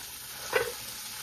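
Onion and tomato frying for poha in a pan, stirred once, giving a short burst of sizzle near the middle over a faint steady background hiss.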